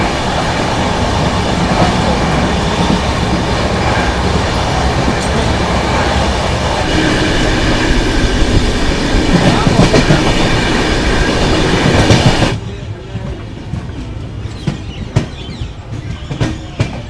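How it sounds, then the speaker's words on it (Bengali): The Howrah Jan Shatabdi Express runs on the rails, a loud continuous rumble and rhythmic clickety-clack inside the moving train, dropping suddenly to a quieter interior hum near the end. "নির্দিষ্ট সময় থেকে 6 মিনিট লেটে আমাদের ট্রেন এসে পৌঁছালো মধুপুর"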